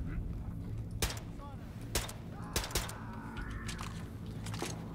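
Pistol shots in the shooter game Wolfenstein 2: The New Colossus, a few sharp cracks spaced about a second apart over a steady background hum, with a voice talking faintly underneath.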